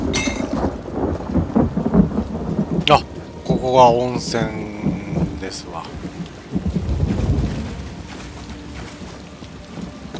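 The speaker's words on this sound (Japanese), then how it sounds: "うわ、なんだ雷。" Thunder rumbles and rain pours in The Elder Scrolls Online near Darkwater Crossing, with heavy, repeated rolling peaks and steady rainfall as people speak over it.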